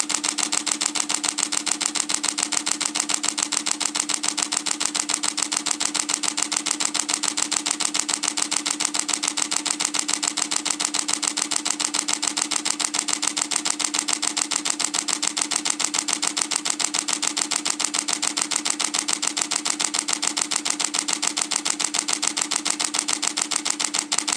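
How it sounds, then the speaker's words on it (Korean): A Canon EOS 80D DSLR, with no lens mounted and set to 1/8000 s, fires its shutter in high-speed continuous burst mode: a rapid, steady, evenly spaced run of close mechanical clicks lasting throughout, with no voices. "지금 렌즈를 마운트하지 않고 셔터스톱 8000분의 1초를 이용해 사실상 검정화면 기준의 JPG 최대 화질을 한번 촬영을 해보겠습니다"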